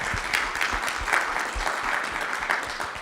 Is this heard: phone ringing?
no